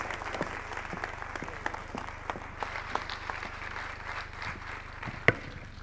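An audience claps to welcome a speaker at an education talk, a dense even patter of many hands with a few sharp claps standing out, moderately loud and sustained throughout.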